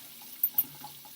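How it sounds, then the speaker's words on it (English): Cold water runs from a kitchen tap into a sink with a colander, a soft, quiet steady flow broken by two brief splashes. "grab a colander and turn the cold water on"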